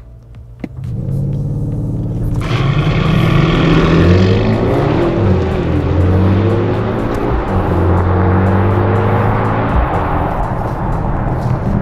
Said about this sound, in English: the GLE Coupe AMG's got a launch control, so I'm gonna test the acceleration, see if this thing is quick off the line.